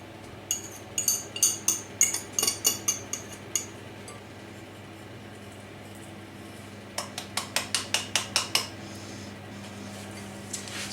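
Butter and caster sugar are beaten together in a bowl for a lemon drizzle cake, with a run of rhythmic clinking strokes against the bowl, then a pause, then a second burst of quick beats.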